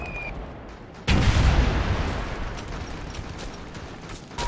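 Gunfire and heavy blasts erupt in the military shooter game Operation Flashpoint: Red River: a sudden loud boom after a quiet moment, then rolling, sustained rumble and scattered shots that slowly fade.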